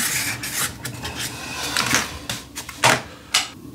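Rasping, scraping cuts into vinyl plank flooring to enlarge a circular hole during a bathroom install, uneven strokes close up with a few sharper bursts near the end.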